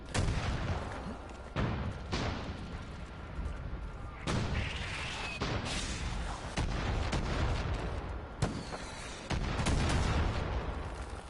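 Rapid gunfire and heavy explosions from a Far Cry 5 arcade endurance match, with bursts and booms crowding together almost nonstop and a few sharp blasts standing out, loud and close.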